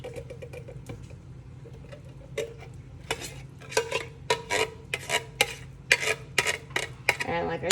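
A can of fire-roasted tomatoes going into a pot of chili with browned crumbled meat: a run of sharp metallic clinks and scrapes from can and spoon, growing busier and louder toward the end over a low kitchen hum.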